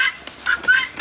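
A chicken gives a few short, quick clucks, close by and fairly loud, over about a second.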